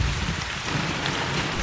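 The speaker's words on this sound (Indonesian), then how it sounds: "Adegan berikutnya memperlihatkan hujan datang" Steady, dense rain falls throughout a film scene, a continuous hissing patter with a low rumble underneath and no voices.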